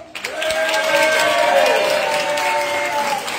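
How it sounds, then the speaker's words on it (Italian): A crowd applauding at a tombola evening hosted by a DJ, steady clapping swelling in quickly and holding for several seconds, with a tonal line and background voices running underneath. "Facciamo sentire un applauso."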